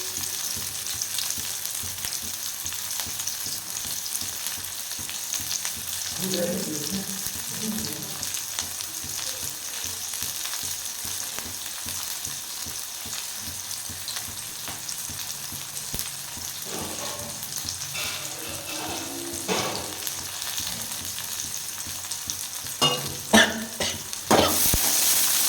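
Green chilies fry in hot oil with a constant soft crackling sizzle, joined near the end by a few louder stirring scrapes and pops, with no voices.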